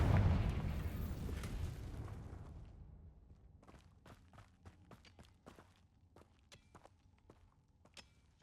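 A Confringo blasting spell goes off in Hogwarts Legacy with a loud, rumbling explosion that fades over a few seconds, followed by a scatter of sharp clicks and small impacts.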